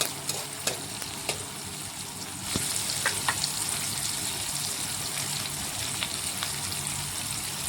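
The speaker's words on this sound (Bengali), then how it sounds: "এখন বেশ কিছুক্ষণ সময় নিয়ে পেঁয়াজটা লাল লাল ভেজে নিতে হবে।" Onions frying in mustard oil for a homemade biryani, a steady broadband sizzle that holds throughout, with a few soft stirring knocks and a slight rise in level partway through.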